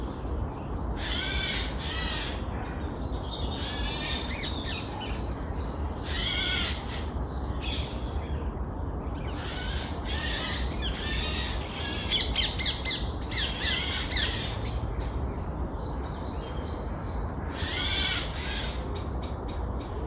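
Eurasian jay in woodland giving repeated harsh, raspy screeching calls in bursts with short gaps, fairly distant over a soft background hiss.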